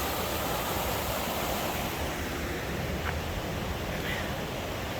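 A creek flowing past a campsite where two streams converge, a dense, even rush of water that fills the whole clip at a steady level, with no voices.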